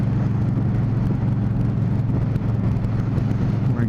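A motorcycle engine drones steadily and up close while the bike is ridden, a continuous mid-low hum with no voices.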